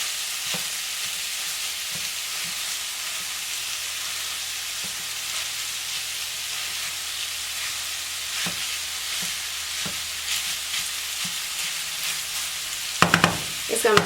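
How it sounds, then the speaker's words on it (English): Sausage browns in a hot pan for a wild rice casserole, giving a constant loud sizzle with scattered pops and occasional utensil clicks, ending in a few sharper knocks. "our sausage is on and popping. We want to get it completely brown."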